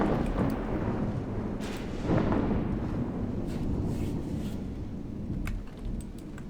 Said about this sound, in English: 3-inchers are rocking the enemy cruiser